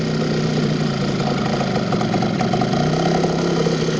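A 1960s Cary Jet outboard motor, running on a 16:1 air-cooled mix, idles in a steady, loud and close mechanical drone with a constant rumble and a rapid firing texture.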